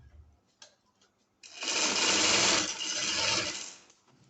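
A sewing machine stitches a strip onto a shirt neckline with one loud, close, steady whirring run of about two seconds. A few light clicks and handling taps come before it.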